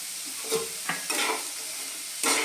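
Papaya chutney with salt just added is stirred in a pan, a low steady sizzle punctuated by a few quick scraping strokes of a spoon, close and alone.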